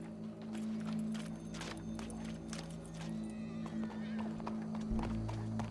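Horse moving in Red Dead Redemption 2, with a steady run of hoof clip-clops over a humming background of game sound.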